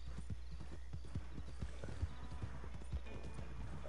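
Horse hooves clip-clop in a PS4 video game, a steady run of sharp, evenly spaced thuds close up over a low constant hum, with a brief whinny-like tone partway through.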